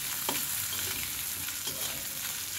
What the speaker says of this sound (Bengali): আর একটু মুগ ডাল দিয়ে ভেজে নেব